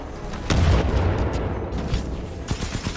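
A grenade blast in the multiplayer shooter Titanfall 2: a sudden loud boom at about half a second with a deep rumbling tail, then a smaller burst of impacts near the end, with no talk.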